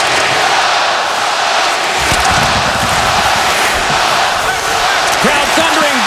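A hockey arena crowd at a Stanley Cup-clinching game roars loudly and continuously, a dense wall of cheering with thumps and slams; a commentator talks over it.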